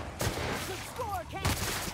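Gunshots in the video game The Outer Worlds: two sharp blasts about a second apart, moderately loud, with a voice murmuring between them.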